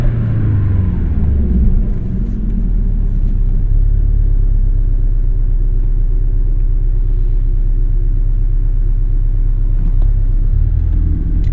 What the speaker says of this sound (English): So the idle still has that Boxster 4 rumble